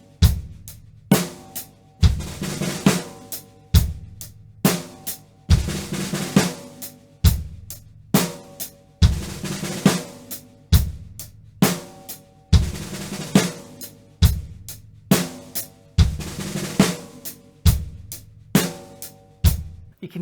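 Drum roll exercise number 15 played on a drumset, a steady run of roll figures with regular accented strikes and ringing drum tones, counted in fours, close and loud with no talking.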